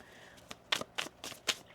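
Tarot cards being shuffled in a few quick, crisp riffling bursts, close and fairly quiet, with no talking over them.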